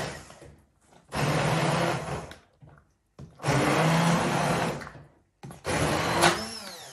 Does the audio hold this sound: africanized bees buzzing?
no